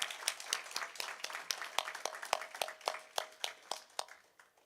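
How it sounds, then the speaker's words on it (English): Applause for nursing graduates at a pinning ceremony: fairly quiet, sparse clapping with distinct individual claps popping out over a thin background of hands, fading out toward the end. "Just another round of applause for this great class of nursing graduates 2025."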